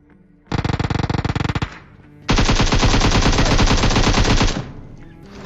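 An M4 rifle in PUBG Mobile fires two loud, rapid full-auto bursts, a short one followed by a longer sustained one, each a dense, even rattle of shots, with no talking.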